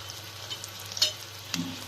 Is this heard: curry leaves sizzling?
yes